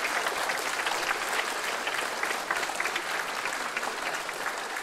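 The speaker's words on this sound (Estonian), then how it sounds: "teeksimegi ühe suure aplausi kultuurikeskuse rahvale, kes meid siin kenasti vastu võttis" Large audience clapping steadily at a culture centre celebration in Rakvere, a dense, sustained wash of applause filling the whole stretch without pause.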